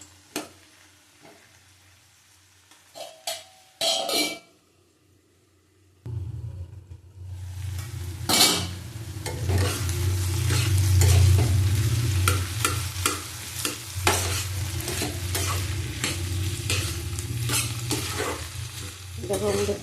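Potatoes with poppy seed sauté over low heat, first quiet with a few clinks and scrapes, then a lid lifts into steady close frying sizzle with repeated spatula scrapes and stirring, no talk.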